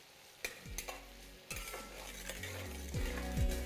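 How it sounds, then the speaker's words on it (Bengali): Tomatoes stirred in a pan over a low-to-medium flame: a quiet, soft sizzle broken by a few sharp scrapes and knocks of the spoon against the pan, with faint background music underneath. "টমেটোটা যতক্ষণ না ভালোভাবে গলে যাচ্ছে ততক্ষণ এটাকে এইভাবেই মেশাতে থাকুন।"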